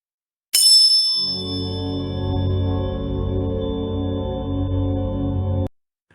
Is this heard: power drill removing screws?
no